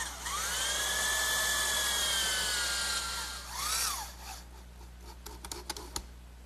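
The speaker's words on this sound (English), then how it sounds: "I'll fasten this with a drywall screw" Drywall screw driven into a wooden rocking horse side panel by a power driver, a sustained whining motor tone rising and falling for about four seconds, then a brief second burst and a few light clicks as it seats.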